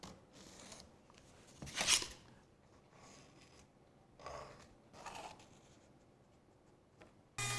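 A pencil traces outlines onto wooden pieces for a Moxon vise, giving faint scratchy strokes broken by a few brief louder scrapes and shuffles, quiet and close with pauses between.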